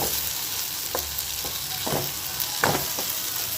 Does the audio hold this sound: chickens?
no